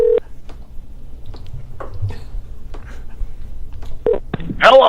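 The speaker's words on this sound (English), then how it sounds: "Okay, excellent. It's ringing." A telephone call goes through on a comedy podcast, with a tone sounding early and a short burst of line tones near the end, over quiet background rustle.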